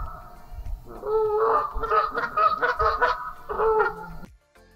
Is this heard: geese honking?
yes